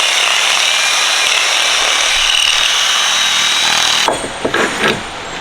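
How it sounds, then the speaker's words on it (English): A power drill bites through a powder-coated metal engine mount during an LS3 swap into a BMW E36, a loud steady high whine for about four seconds before stopping, followed by a few brief clunks. "We gotta just drill that real quick."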